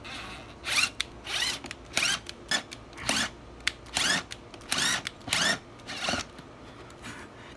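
A screw twisted back and forth by hand to bore finger holes in a homemade flute, giving a steady series of short, close scraping grinds in a regular rhythm with no talk.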